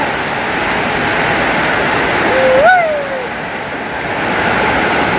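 Heavy rain pours with floodwater in front of a house, a loud, dense, steady hiss and rush close by, with a brief rising whistle-like tone and a voice murmuring faintly underneath.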